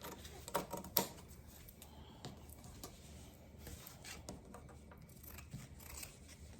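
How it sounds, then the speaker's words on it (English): Scissors cutting fabric around a pinned template for a heart-shaped pillow, a series of irregular close snips and rustles in a quiet room. "I'm just gonna cut all the way around that edge."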